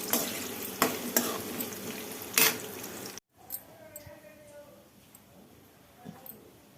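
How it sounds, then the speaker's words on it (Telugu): Chopped onion frying in oil and stirred for a bitter gourd fry. A loud, close sizzle comes with repeated scraping clatter, then cuts to a quieter, softer frying with faint voice-like tones in the background. "ఇప్పుడు ఇదే ఆయిల్లో ఈ ఆనియన్ కట్ చేసి పెట్టుకున్నాం కదా అది వేసి బాగా ఎర్రగా రోస్ట్ చేసుకోవాలండి"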